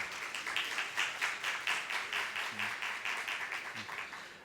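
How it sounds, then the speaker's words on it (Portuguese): A conference audience claps in steady, dense applause that stays even throughout. Faint voices can be heard under the clapping. "Uma salva de palmas."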